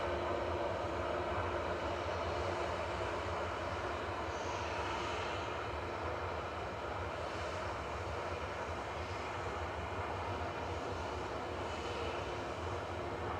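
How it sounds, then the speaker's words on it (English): An ETF Airways jet flying for Jet2, registration 9A-LAB, takes off from Manchester Airport bound for Split, a steady, distant roar of engines that holds evenly throughout. "9 LAB is lined up and ready to go now, heading off to Split with flight 915"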